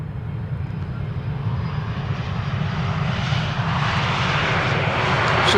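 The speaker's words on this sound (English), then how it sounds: "First up, KLM's A330 returning from Vancouver" A KLM Airbus A330 returning from Vancouver lands at Amsterdam Schiphol with idle reverse thrust, a steady loud engine roar that builds slightly as it rolls past, with no talking.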